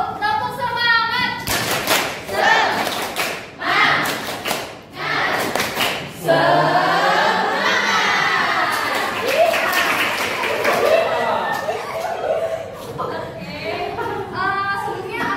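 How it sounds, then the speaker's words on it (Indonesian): A classroom of students performs a rhythmic spirit clap in Indonesian, bursts of claps and thumps alternating with spoken and chanted voices, fairly loud and close throughout. "Coba tepuk semangat dulu. Tepuk semangat."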